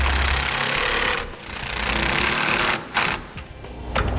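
Impact or power tool driving 12 millimeter gooseneck hitch nuts on a 2007 Toyota Tundra frame rail, loud continuous buzzing rattle in bursts, cutting off briefly then restarting in short pulses.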